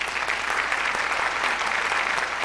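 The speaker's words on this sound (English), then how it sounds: "Give him a round of applause" An audience at a Public Works Jeopardy event applauds the champion, with sustained, even clapping from many hands throughout.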